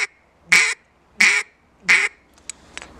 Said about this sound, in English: that's your basic quack